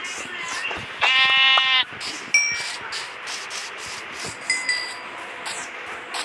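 A sheep bleats in a Minecraft game, one loud, close, wavering bleat lasting under a second, followed by small chiming dings and soft clicks of gameplay.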